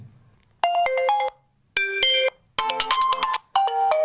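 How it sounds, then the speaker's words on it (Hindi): Several bright electronic ringtone melodies from an OPPO Reno Z phone play one after another, each a short chiming phrase separated by brief silences. "अब इसमें से आपको दो तीन रिंगटोन चला के भी दिखा देता हूँ"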